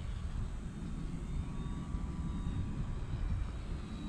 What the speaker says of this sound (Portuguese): O avião é bem dócil.